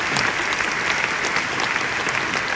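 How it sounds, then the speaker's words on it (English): Dense, even applause from a large audience fills a hall at a business event at Cheltenham Racecourse, with a steady wash of clapping throughout. "Wow, that deserves a massive clap."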